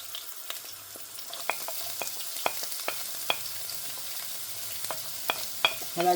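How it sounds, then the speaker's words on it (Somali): Onions frying in olive oil in a pot, a steady sizzle with crackling pops and occasional stirring scrapes, close and continuous with no talking. "xalaajiga inta dhigana xoogaa basasha shiil horta"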